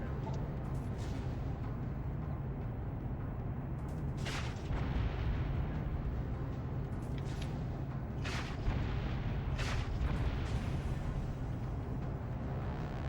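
Rumbling blasts of rockets striking targets in the Dropship: United Peace Force video game, a steady low roar with several sharp bursts spaced across the clip.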